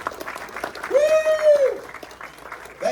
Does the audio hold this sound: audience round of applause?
yes